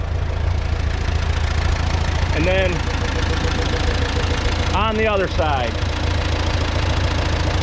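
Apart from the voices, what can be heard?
tractor 4-cylinder Continental gas engine idling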